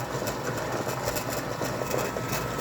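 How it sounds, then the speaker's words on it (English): A Lortone Model 3A rotary rock tumbler runs under a variable frequency drive as its speed is ramped up, giving a steady, continuous low mechanical hum and whirr with no pauses, fairly faint and heard alone. "I'll pan out and I'll ramp it up to 60."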